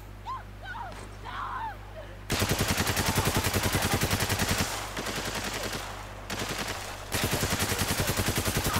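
Rapid automatic gunfire from Spec Ops: The Line rattles loudly in long sustained bursts after a quiet opening with faint birdlike chirps, briefly easing then resuming hard.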